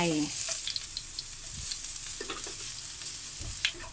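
Steady crackling sizzle of garlic frying in hot oil in a pan, with occasional soft clinks and stirring scrapes close by.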